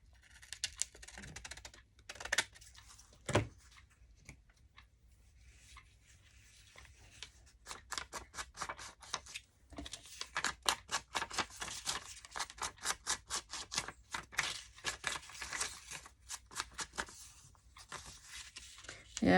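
Crisp, rapid snips of scissors cutting paper, starting sparse then becoming a quick steady run of close, dry clicks.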